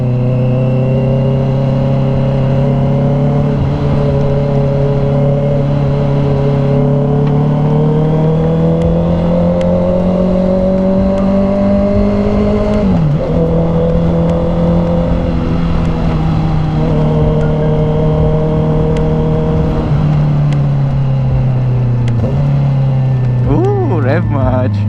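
A Honda CB650R motorcycle engine drones steadily on a city road, its pitch rising and falling as it revs and shifts, loud and close throughout, with people talking over it.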